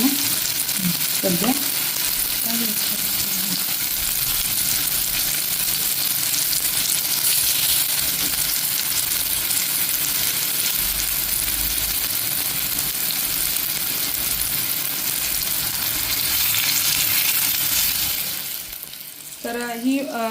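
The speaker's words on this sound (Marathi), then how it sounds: "फिश मी फ्रायसाठी टाकलेली आहे तव्यात तर थोड्या वेळ तिला स्लो वर मी फ्राय करून घेणार आहे" Bhakas fish from Alibag frying slowly in a pan, a steady sizzle that runs loud and continuous nearly throughout, easing off near the end as a voice begins to speak.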